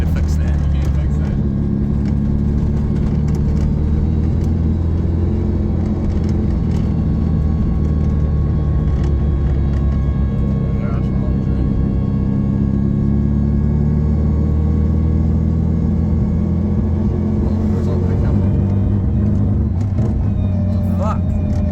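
A Toyota Corolla with a swapped Hayabusa motorcycle engine drives along in a steady loud low drone, engine note wavering with throttle and gear changes, while people talk inside the car.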